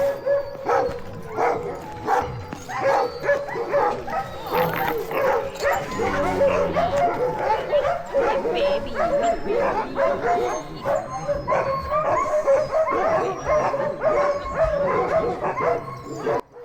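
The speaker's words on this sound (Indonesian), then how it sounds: "Di sini itu banyak banget anjing yang menggonggong" A large team of sled dogs in Alaska barks, yips and whines nonstop in an excited chorus before a dog-sledding run, loud and close, with a voice speaking briefly among them.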